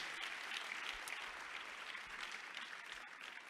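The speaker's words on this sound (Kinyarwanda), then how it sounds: "amashyi menshi" Steady applause from a church congregation during a sermon, dense continuous clapping at an even level throughout.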